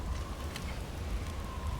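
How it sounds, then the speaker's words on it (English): Steady, dense storm rain pours in God of War Ragnarök, a constant loud hiss of falling water with no voices over it. "Over a storm like this?"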